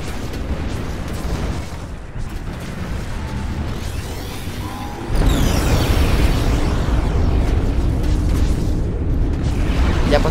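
A dense roaring rumble of explosions in the game Planetary Annihilation, growing louder and heavier halfway through, with a sustained blast-like din and no clear speech.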